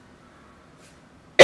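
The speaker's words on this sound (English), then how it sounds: "Still got this bogus cough" A single sharp cough from a woman with a lingering cough breaks a near-silent stretch, loud, close and abrupt, right at the very end.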